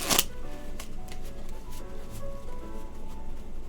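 A deck of playing cards being riffle shuffled: a loud opening burst of fluttering card snaps, followed by softer scattered clicks and rustles as the cards settle, close and quiet.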